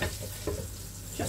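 Aubergine frying in oil in a pan, a steady soft sizzle running throughout with a few faint stirring scrapes, close and fairly quiet.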